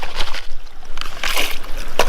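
Water sloshing and splashing in a gold pan as gravel and material are mixed up by hand, coming in uneven swishes with a strong surge in the second half and a final splash.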